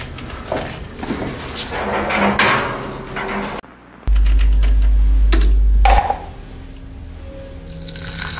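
A computer keyboard clatters with irregular close key clicks, followed by a brief silence, a steady low hum and a few scattered knocks.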